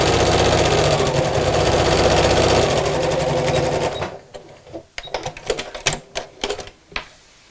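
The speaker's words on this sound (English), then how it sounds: "I'm just going to sew about an eighth of an inch from the edge." A sewing machine runs in a steady, loud whir of rapid stitching for about four seconds while stitching about an eighth of an inch from the fabric edge on a backpack bag, then stops, leaving scattered clicks and handling knocks.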